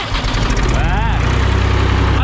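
Ursus tractor fitted with a Perkins engine turns over and settles into a steady, loud, close idle with a rhythmic diesel throb.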